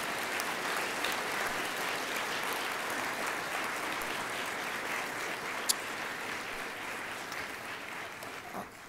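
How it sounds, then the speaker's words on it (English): Sustained applause from a large audience at a Holland College graduation ceremony, a dense steady wash of many hands clapping that holds at an even level before easing off at the end. "would you join me in giving all of those folks a big round of applause"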